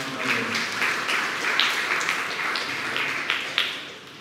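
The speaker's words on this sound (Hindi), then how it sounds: "हम लोग तालियों से बधाई दे सकते" Audience at a Sunday evening Hindi church service gives a round of applause, many hands clapping in a steady patter with a few sharper individual claps, faint talk beneath.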